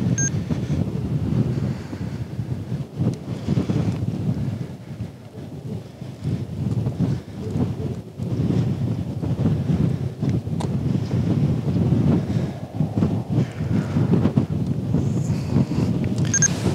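Wind blows outdoors in strong, continuous gusts that buffet the microphone with loud low rumbling, steady throughout with no talking.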